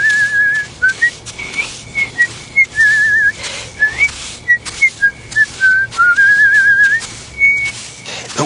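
A person whistles a lively tune in an audio fairy tale, a string of short bright phrases and longer held notes with small gaps between them, close and clear with no talk.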